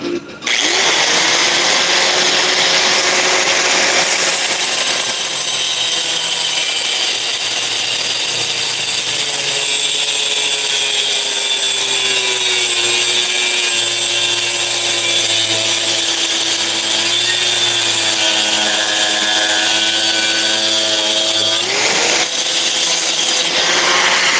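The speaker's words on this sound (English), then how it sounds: "I'm using the grinder." A grinder cutting steadily for over twenty seconds, a loud continuous high whine whose pitch dips and shifts as the disc bites into the material, then briefly rises near the end, with no talk.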